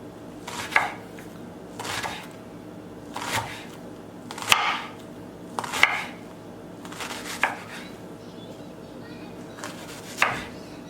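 A knife slices food into thin pieces on a cutting board during empanada prep, with about eight evenly spaced, crisp chops that land near and moderately loud over quiet kitchen background.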